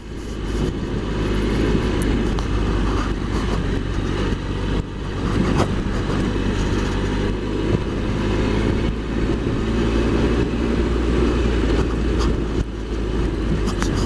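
A Triumph Explorer XCa motorcycle on the move, its engine droning steadily and loudly with heavy wind rush throughout, holding a fairly even pitch with small surges.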